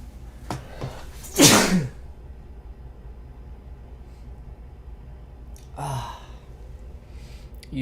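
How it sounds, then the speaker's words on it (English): A single loud sneeze bursts out close to the microphone from someone wearing a fursuit, followed several seconds later by a softer sigh-like breath, with quiet background between them. "I need to sneeze."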